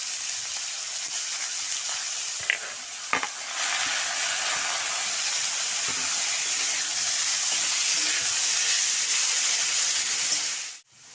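Gourd peels with green chillies sizzle in a hot pan, a steady close hiss of frying filling the stretch with a couple of brief clinks of stirring, then cutting off at the end.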